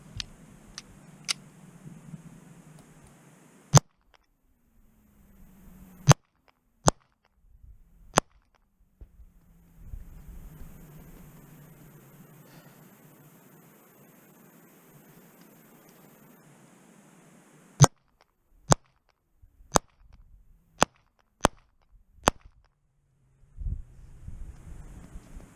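A Mossberg MC2sc pistol fires sharp, loud single gunshots outdoors at a range, spaced out at first and then in a quicker string of about half a dozen, with wind noise between them.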